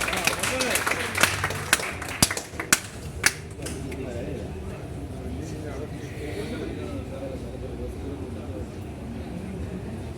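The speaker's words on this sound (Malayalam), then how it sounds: "ഒരു കൈയടി കൊടുക്കാം" A few sharp, scattered hand claps from an audience welcome dancers on a Kochi sea cruise, fading after a few seconds into steady talk and background murmur.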